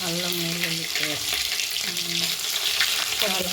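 Onions and ginger-garlic paste sizzling in a pan, a steady crackling fry under a soft background hum with brief musical tones, no talk heard.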